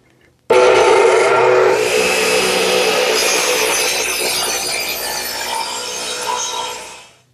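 A radial arm saw set to 18 degrees cuts through a 2x8 redwood board, an abrupt loud onset followed by a sustained whining rasp of blade in wood that eases slightly as the cut finishes, then stops.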